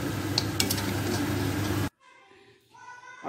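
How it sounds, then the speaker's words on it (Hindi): Gentle stirring of desi chicken karhai in a pan, a steady loud scraping sizzle that cuts off abruptly partway, leaving quiet clinks and faint room sound. "इसको एक दफ़ा जेंटली आपने फिर मिक्स करना है।"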